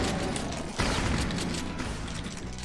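Shotgun blasts in Brutal Doom, one heavy boom standing out over a dense backdrop of continuous game noise and mechanical clatter, played loud and near.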